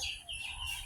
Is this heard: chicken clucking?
yes